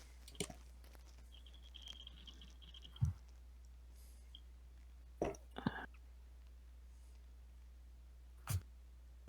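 Ten-sided dice being picked up and rolled, heard as a few faint, brief clatters spread out with quiet pauses between them.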